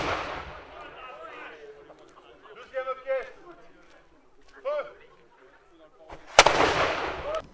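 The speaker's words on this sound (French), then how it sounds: "ce championnat s'est clôturé par 2 gros coups de feu" Two loud, sharp gunshots close together near the end of a championship's closing, following a stretch of people talking in the background.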